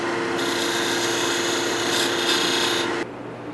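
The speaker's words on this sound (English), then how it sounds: "I'm just using my parting tool to profile this little bit right here." A parting tool cuts into a spinning two-piece wooden yo-yo on a lathe, making a steady, loud, close rasping scrape that holds for about three seconds and then stops abruptly.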